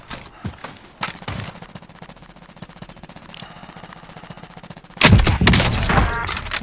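Gunfire in the Warzone video game: scattered single shots early on, then a loud close burst of rapid fire breaking out near the end.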